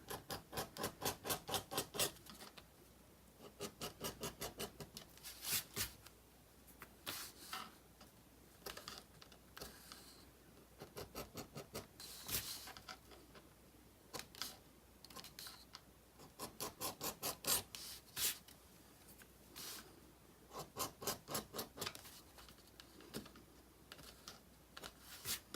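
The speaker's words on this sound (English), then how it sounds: "I'm going to take my edge beveler." An edge beveler is drawn along the edge of a leather bookmark in repeated bursts of quick, rhythmic scraping strokes. The strokes come in evenly spaced runs with short pauses between them, close up and with no talking.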